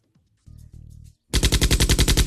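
Rapid machine-gun fire in a scene from the Tamil film Singam Puli: a loud, close, evenly rhythmic burst of shots that follows a couple of short buzzing tones.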